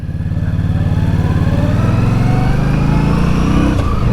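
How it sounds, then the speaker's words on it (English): An Indian Scout Bobber motorcycle engine runs steadily up close, its throbbing idle-to-mid rev pulse even and continuous throughout with no voices. "The engine is quite quiet"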